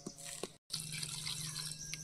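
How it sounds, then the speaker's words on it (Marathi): Water runs into a bottle outdoors during a crab feast in the fields, a close trickling and dripping flow with a steady tone that cuts out briefly and then resumes. "बॉटल भर ना थोडी पाण्याची"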